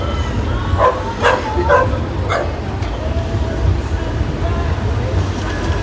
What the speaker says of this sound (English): Look at him, little Frenchie.